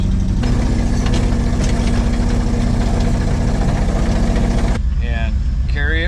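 A wrecker tow truck's heavy engine is given gas during an off-road recovery among trees. It makes a loud, steady rumbling drone that drops off near the end, where faint voices come in.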